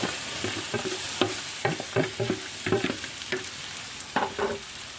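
Mango pieces fry in hot oil with garlic and curry leaves, giving a loud close sizzle that is broken by a series of sharp stirring scrapes and taps in an irregular rhythm.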